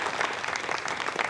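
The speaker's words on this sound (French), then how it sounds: "Voilà, donc là, cette fois-ci, il y a les applaudissements." Applause breaks out in an Arianespace launch control room after satellite separation on a Galileo mission: dense, even clapping from many people, continuous and fairly loud across the short stretch.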